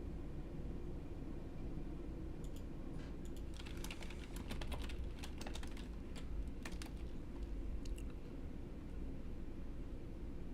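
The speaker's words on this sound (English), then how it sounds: "I've learned typing at the fastest rate possible." Rapid typing on a computer keyboard, dense clusters of quick clicking keystrokes in uneven bursts over a steady background hiss, close and moderately quiet, with no talking.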